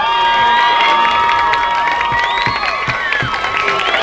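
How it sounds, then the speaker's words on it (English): Fans at a high school football game cheer loudly with overlapping shouts and high voices, along with scattered clapping, in a lively and continuous crowd noise. "They're cheering for the cheerleaders."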